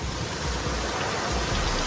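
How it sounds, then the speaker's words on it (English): Steady rain falling outdoors during work on a Tahoe leveling kit, a loud dense hiss that holds evenly throughout with no voices. "It's raining out here"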